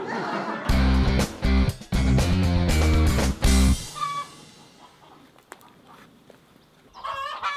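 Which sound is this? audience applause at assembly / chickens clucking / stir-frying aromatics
chickens clucking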